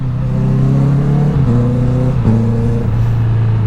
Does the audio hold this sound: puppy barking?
no